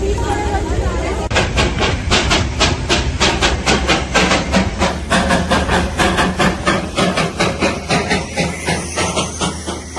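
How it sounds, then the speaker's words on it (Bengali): A steam-engine toy train at Batasia Loop in Darjeeling chuffs loudly and close by, with rapid regular exhaust beats and hissing over a low rumble, the rhythm slowing slightly toward the end. "বাতাসিয়া লুপের মধ্যে ঘুরতে ঘুরতে আবার একটা স্টিম ইঞ্জিন টয় ট্রেনের দেখা মিলল"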